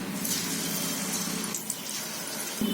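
Raw papaya gulgule batter is spooned into oil on low heat, giving a steady, close, dense frying hiss that runs throughout without a break and with no talking.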